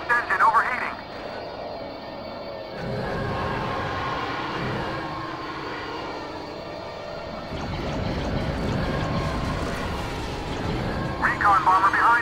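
Recon bomber aircraft engine in Star Wars Battlefront II, a steady broad roar that swells and holds over about twelve seconds of battle noise, with voices and radio chatter layered on top.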